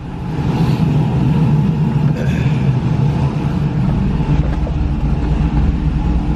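A WS6 Trans Am with cam, intake and headers idling with a steady, rumbling chop, loud and close, running evenly for several seconds without talking.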